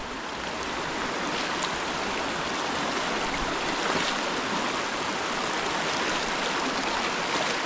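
A mountain river runs high and fast a few days after a flood, giving a steady, even rush of water that fills the whole stretch without pause or voices.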